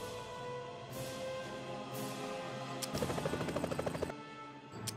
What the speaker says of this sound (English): I really need to use a helicopter.